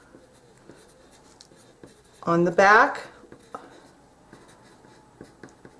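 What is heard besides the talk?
writing with a pencil on wooden pieces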